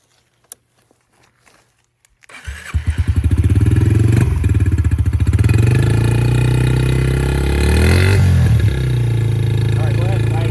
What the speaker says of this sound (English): turn the key on and start it up